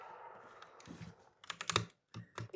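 Keys clack on a new mechanical computer keyboard in short, uneven bursts of sharp, close taps, with a brief pause between flurries and no speech.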